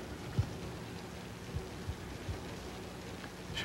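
Steady rain falls through a wet night, a dense even hiss with a few heavier drops and splashes standing out now and then.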